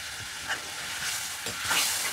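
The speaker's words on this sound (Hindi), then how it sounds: "इसलिए एक दो उबाल इसमें हम दे देंगे" Sev bhujiya curry bubbles and hisses in a pan as it comes to a boil, giving a steady broadband sizzle with soft swells and a few brief pops, close and alone without voices.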